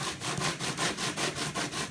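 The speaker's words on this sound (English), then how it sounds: "we're gonna start sanding off from the top until we see that we are touching" Rhythmic back-and-forth sanding strokes rasp against a wooden flap leading edge piece, close and steady, about ten even passes with no voices.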